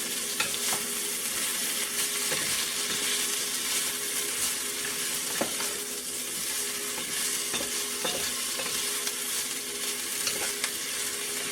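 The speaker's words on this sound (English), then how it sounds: "Onions and peppers are caramelizing." Onions and peppers caramelize in a pan for a vegan quiche, giving a steady, even sizzle and frying hiss with a few soft stirring scrapes along the way, moderately loud and close, with no talking.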